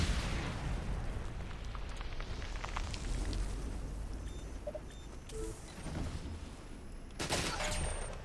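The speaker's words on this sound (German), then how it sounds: "Ich weiß ja nicht, wo ich da gerade Granaten hinwerfe." Grenade blasts and bursts of gunfire from the Ghost Recon Online shooter game crackle under a continuous noisy rumble, with a sharp loud hit near the end.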